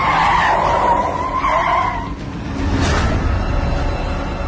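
A car's tires screech as it skids to a sudden stop on a mountain road in Himachal, a loud squeal under road noise that fades into a low rumble.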